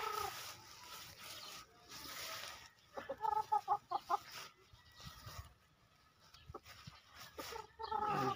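Young stags around eleven months old cluck and chatter in a farmyard, with bursts of close clucking in the middle and again at the end, separated by quieter stretches.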